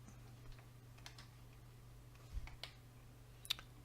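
Keys tapped on a computer keyboard to enter a page number, giving a few faint, scattered clicks over a low steady hum.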